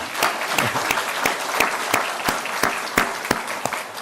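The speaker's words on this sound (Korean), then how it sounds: "우리 큰 박수로 환영하겠습니다" A church congregation claps steadily, a dense sustained round of applause with sharp individual hand claps standing out, close and continuous throughout.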